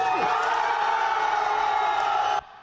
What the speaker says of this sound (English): A crowd erupts into cheers as former Taipei Mayor Wen-je walks free